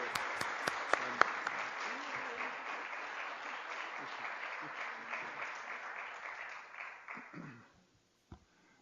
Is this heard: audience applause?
yes